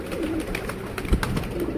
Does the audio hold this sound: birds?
yes